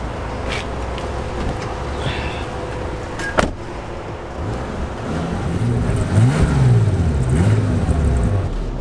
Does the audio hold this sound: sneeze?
no